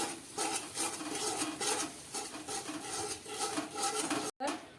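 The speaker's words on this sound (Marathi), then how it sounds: "त्याला असं सारखं मिक्स करत राहायचं पळीने किंवा ओलाचीने" Jaggery melting in a pan over low heat, stirred continuously with a ladle: steady, close scraping and swishing strokes in a loose repeating rhythm, with a brief cut just before the end.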